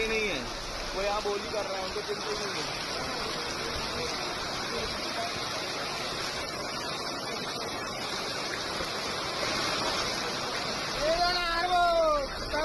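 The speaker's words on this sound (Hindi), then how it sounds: "छिंदवाड़ा में तेज बारिश हुई" Heavy rain falls in Chhindwara, Madhya Pradesh, as a dense, continuous hiss and patter, loud and steady throughout, with a brief voice-like tone near the end.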